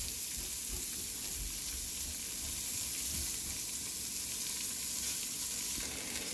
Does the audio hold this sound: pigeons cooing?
no